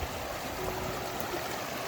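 A glacier-fed stream on the way to Avalanche Lake pours over rocks with a steady, broadband rush of flowing water, continuous and even throughout with no voices.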